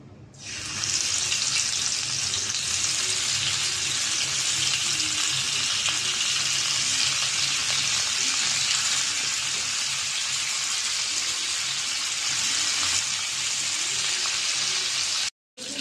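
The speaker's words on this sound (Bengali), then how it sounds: "তেলটা গরম হয়ে গেছে, মাছ দিয়ে দেব।" A loud, continuous hiss of rohu fish frying in hot oil in a kadai erupts suddenly and holds steady and close, then cuts off briefly near the end.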